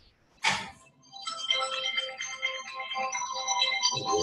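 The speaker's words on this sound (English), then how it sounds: "I forgot to turn off my phone" A mobile phone ringtone plays during a digital signatures lecture. A brief knock comes first, then a steady melodic tone that keeps going, fairly faint and with no talk over it.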